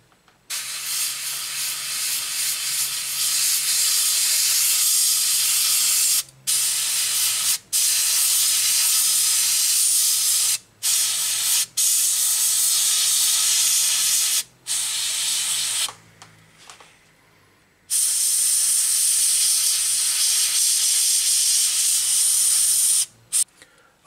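A spray can lays a winter whitewash over a Tamiya ISU-152 model tank in long, close, loud hissing bursts separated by brief pauses, with no talking.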